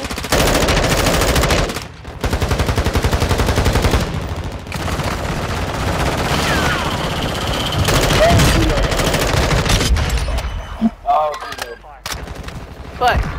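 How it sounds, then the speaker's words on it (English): Call of Duty: Warzone gunfire in a Resurgence quads match, dense rapid automatic bursts and shots nearly nonstop, loud and close, with brief gaps and quieter scattered shots toward the end, a voice faintly underneath. "They're all shooting."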